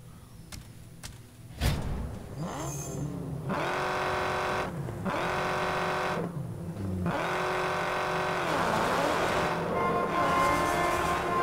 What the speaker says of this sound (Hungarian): ez barom jó hangja van ennek a kocsinak például